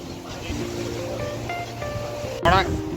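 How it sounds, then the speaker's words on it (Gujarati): Strong sea waves surge and wash ashore on Dabhari beach, a steady broadband roar with a louder crash near the end, under wind and people talking nearby. "આ દરિયાના મોજા તમે જોઈ શકો છો કેટલા જોરદાર આવી રહેલા છે"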